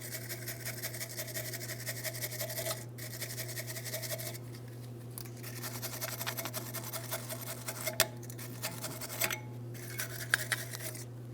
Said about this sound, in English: For this, I'm going to use a wire brush.